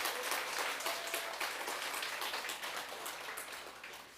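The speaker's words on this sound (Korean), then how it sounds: "큰 박수로 맞이해 주시기 바라겠습니다." Steady applause from an audience welcoming a monk at a Buddhist dharma talk in Korea, a dense even patter of many hands held at moderate volume throughout, with no voices over it.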